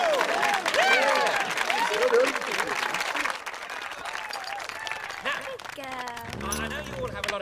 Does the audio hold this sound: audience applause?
yes